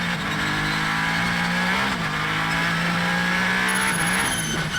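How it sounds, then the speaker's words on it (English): A WEC endurance race car engine holds a high, droning pitch as the wheels spin in third gear leaving the pit lane, with brief dips in the tone and no voices. "You could hear the wheel spin"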